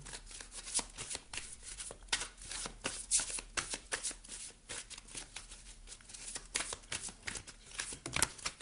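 Lise Bartoli light oracle cards shuffled steadily by hand, a dense run of crisp riffling and slapping card sounds close up, with no voice over them.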